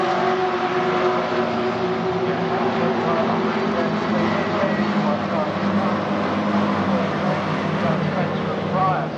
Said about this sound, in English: red lights are on and the engine notes are rising. Off go the BCV8.